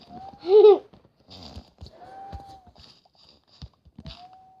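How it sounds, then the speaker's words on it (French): A cat lets out one loud, close meow, followed by quiet rustling, soft knocks and faint thin tones. "Interruption par le chat."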